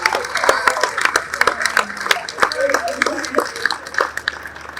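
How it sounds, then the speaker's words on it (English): Claps scattered through a room during a morning gathering of industry colleagues, with irregular hand claps sounding near and far over ongoing voices and general room noise. "Can we all rise and give a round of applause to you for creating this opportunity?"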